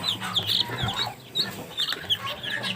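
Light-coloured mail-order chicks placed with a broody hen peep in thin, high bursts alongside soft hen clucking, close by and continuous.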